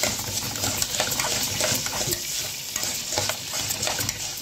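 Rice stirred in a pot on the stove, a continuous close scraping and clinking of the spoon against the pot with a gentle sizzle beneath, steady throughout.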